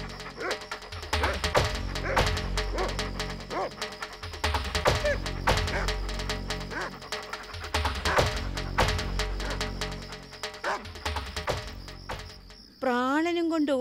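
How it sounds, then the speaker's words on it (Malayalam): Village dogs bark and yip repeatedly in a busy, close chorus with whimpering mixed in, set under music and voices in a folk story telling of a jackal chased by the dogs. "പക്ഷേ നാട്ടിലെ പട്ടികളുണ്ടോ വിടുന്നു?"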